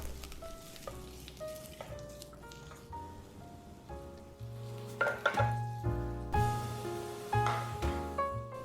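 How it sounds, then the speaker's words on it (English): Shallots are fried in a pan until browned as the base for a dumpling soup, with a soft, steady sizzle underneath and clanging, ringing utensil strikes on the pan and pot punctuating it. "fry some shallots until they are nicely browned"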